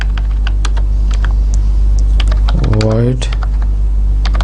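Rapid keyboard typing of C code, close and crisp clicks in an irregular stream, with a voice briefly speaking over it midway.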